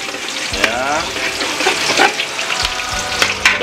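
Shallots frying in hot cooking oil for the Nias dish ni'unago give a steady, close sizzle throughout, with a few sharper crackles and spatters and occasional stirring clatter, and no voices.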